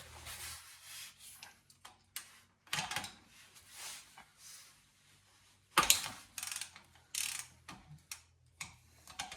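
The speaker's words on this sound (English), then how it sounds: "But starting with taking off the fill bolt first." A ratchet works loose the 24 mm fill bolt on the rear differential of a third-generation Toyota 4Runner, giving close, bursty runs of mechanical clicking separated by quiet pauses, with a louder burst near the middle.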